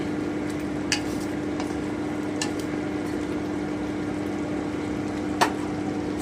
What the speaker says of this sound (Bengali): ধনে পাটা কুচনোটা দিয়ে দিচ্ছি নেড়ে নিচ্ছি